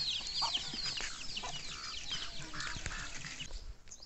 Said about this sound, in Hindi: मुर्गी के छोटे छोटे बच्चे हैं